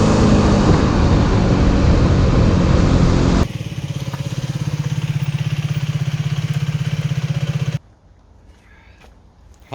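Limited Edition Mondial HPS 125 motorcycle being ridden: a loud, rough engine roar at first, then a steady pulsing engine note for several seconds, after which the engine falls away to near silence.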